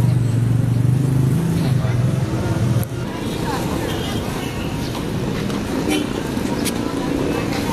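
Traffic hums at a tricycle terminal near a market, with a steady rumble of motorized tricycles and passing vehicles, loud and close at first, then a dense background roar with people talking throughout.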